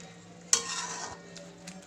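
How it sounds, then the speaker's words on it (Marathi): A rice dish is stirred down to the bottom of a pot over low flame, with one sharp scrape followed by a softer, continuing stir and faint sizzling. "आता आपण हे ढवळून घेणार आहे"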